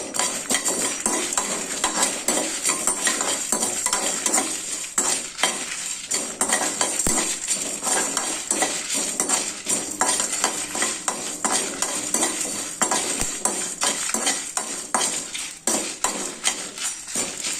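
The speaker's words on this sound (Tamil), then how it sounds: "பாதி வறுத்தாச்சு இப்போ நம்ம மிளகு சீரகம் வெந்தயம்" Pepper, cumin and fenugreek roasting in a pan make a soft continuous dry sizzle with frequent scraping and clinking as a spoon stirs them, close and steady throughout.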